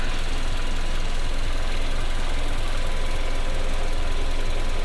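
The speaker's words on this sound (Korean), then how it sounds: "엔진 소리도 일정합니다." A Hyundai Grandeur HG240 engine idles steadily in an open engine bay, a constant low hum and hiss with no revving, no talk over it.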